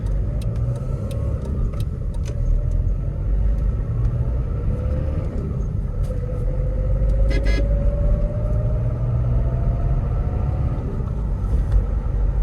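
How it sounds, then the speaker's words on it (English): A 1995 Toyota Hilux Surf engine idles just after a cold start, giving a steady, close low rumble that holds evenly throughout with no talking. "We are just doing a cold start and then kind of a run and drive on this HILUX Surf that is on Bring a Trailer."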